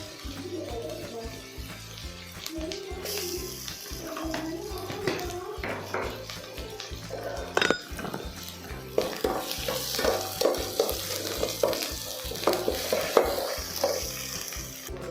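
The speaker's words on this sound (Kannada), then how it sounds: "ಆನಿಯನ್ ಫ್ರೈ ಆದಮೇಲೆ ನಾನು ಇದರಲ್ಲಿ 1 ಸ್ಪೂನ್ ಜಿಂಜರ್ ಗಾರ್ಲಿಕ್ ಪೇಸ್ಟ್ನ ಆ್ಯಡ್ ಮಾಡ್ಕೊತಾ ಇದ್ದೀನಿ" Fried onions with a spoon of ginger garlic paste sizzle in a pan for a Hyderabadi dalcha, with a crackling fry under repeated scraping and tapping of a stirring spoon that grows busier toward the end.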